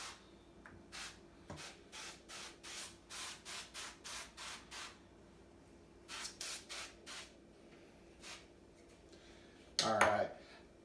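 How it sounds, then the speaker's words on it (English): Repeated short hissing bursts of duck fat spray onto a turkey in a steady rhythm, close by, then a pause and another cluster of sprays, ending with a louder rustle. "I'm going to hit it with the duck spray"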